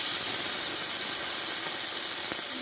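Oil and water mixture hitting a hot kadai gives a steady, loud broadband sizzle and hiss throughout, with a brief sharper crackle near the end and no voices.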